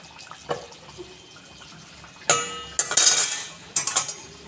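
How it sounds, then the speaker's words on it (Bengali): A metal lid is lifted off a pot of mushroom curry, giving a few sharp clinks and scrapes of metal on metal, close and fairly loud, after quiet faint kitchen sounds. "আমি এরপর ঢাকনাটা খুলে দেখে নেব একটু"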